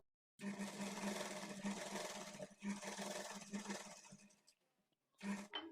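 Sewing machine running in bursts while double-stitching blouse sleeves, a close buzzing whir with a steady needle pulse, pausing briefly near the middle and stopping before a short final burst.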